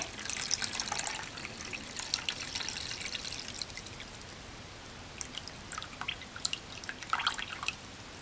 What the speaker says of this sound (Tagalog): Alisin natin itong nakapaibabaw na tubig.